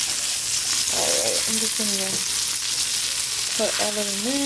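Small pieces seared in a hot pan hiss with a loud, steady sizzle throughout, while a person talks over the cooking.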